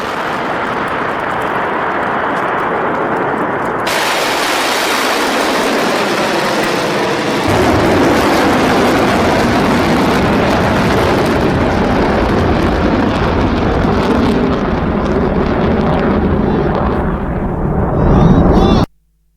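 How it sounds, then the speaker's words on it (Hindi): Iranian ballistic missiles launch with continuous firing, a loud, sustained roar of rocket thrust that swells into a deep, rumbling blast partway through and holds steady before cutting off abruptly. "लॉन्च साइट से उठता धुआं, मिसाइलों की लिफ्ट ऑफ और लगातार होती फायरिंग"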